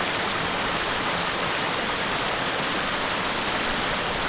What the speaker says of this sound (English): which is right next to a waterfall, as you might have noticed. The sound has changed